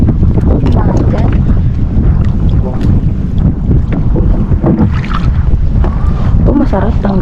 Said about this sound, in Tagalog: Mahangin dyan.